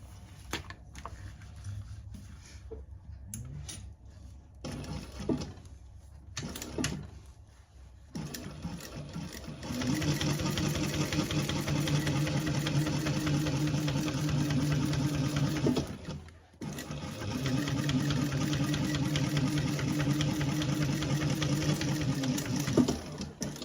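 A sewing machine top stitching a seam runs in two long, steady bursts of fast, even mechanical chatter, with a short pause between them, after some quieter handling noise. No one speaks.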